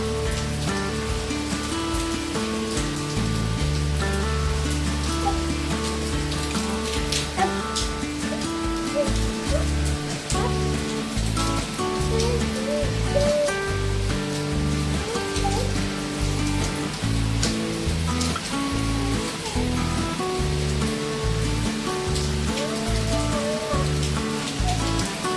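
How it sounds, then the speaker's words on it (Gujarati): Steady light rain falling on a village yard with waterlogged ground, a continuous even patter of drops, close and unchanging, alone without voices. "અત્યારે જો ધીમો ધીમો વરસાદ શરૂ છે."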